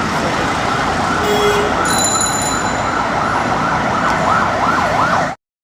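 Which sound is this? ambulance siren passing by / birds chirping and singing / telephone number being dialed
ambulance siren passing by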